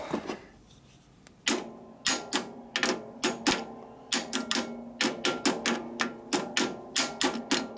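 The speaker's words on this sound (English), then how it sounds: "Just need to knock that up a little bit with my hammer go." Sharp metallic hammer strikes on a bent Harley-Davidson Knucklehead springer fork stem ring out in quick bursts, about twenty blows in uneven clusters, close and loud, with no speech.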